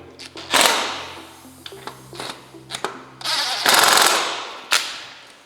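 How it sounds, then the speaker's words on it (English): Bursts of a power driver tightening four T40 bolts on a 1998–2013 Harley-Davidson, several short rattling runs with gaps between them, loud and close, with no talking. "we're gonna tighten those 4 bolts back up"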